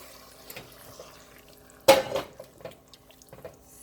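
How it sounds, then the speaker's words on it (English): Water poured into a pot of marinara sauce for lasagna: a sudden, fairly close splash that trails off into softer drips and small clinks, with no talking. "add a little bit of water"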